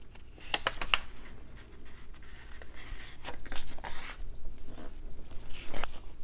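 A sheet of paper is folded in half for a junk journal, giving soft close rustling and crinkling with a few sharp crisp taps as the crease is pressed, all fairly quiet.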